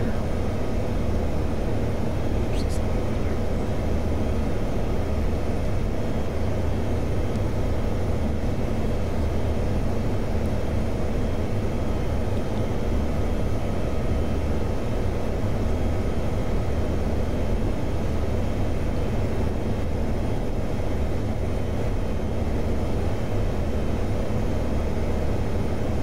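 Inside an airliner cockpit climbing out of Rome, a constant loud broadband engine and airflow roar as the aircraft accelerates, with no talking.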